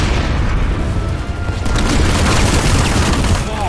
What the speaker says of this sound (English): I think it was a grenade launcher.